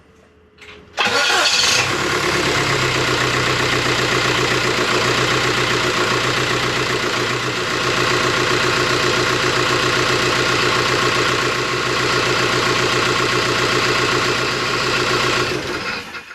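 A Volkswagen TDI diesel engine with a GT1752V turbo, swapped into a Jeep Wrangler TJ, cranks and fires after a second of quiet, then runs steadily and loudly with a low rumble and faint turbo whine.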